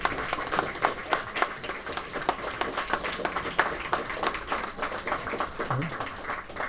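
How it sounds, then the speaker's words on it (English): Applause for junior champions at a mind sports competition: a modest crowd claps steadily for several seconds, individual claps distinct and fairly close, with a faint voice briefly audible near the end. "let's give another big round of applause to our junior champions"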